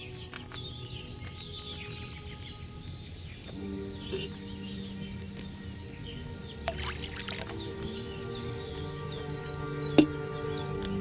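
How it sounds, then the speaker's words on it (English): Wine poured from a pitcher into a cauldron in the video game Kingdom Come Deliverance II, a soft liquid trickle and pour over a faint game ambience with light bird chirps, no talking. "First, you have to pour the right base into the cauldron."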